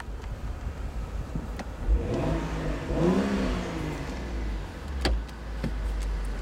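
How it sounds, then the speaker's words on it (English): A white 2012 BMW 135i M Sport convertible engine revs up and falls back twice in quick succession over a low idle, with a few sharp clicks and knocks around it; no one talks. "Great sounding car."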